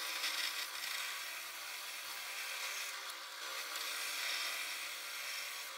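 Wood cutting into a pink ivory bowl blank to remove the middle, a continuous rasping, grinding tool noise heard close and steady for several seconds with no talking.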